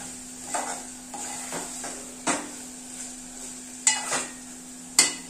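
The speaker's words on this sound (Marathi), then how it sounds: "एवढी कोलंबी पुरेशी आहे। छान परतून घेऊया।" Prawns sautéing in a pan for a prawn rice dish, with a steady soft sizzle under repeated spoon stirs and several sharper clinks of utensil against the pan, close by.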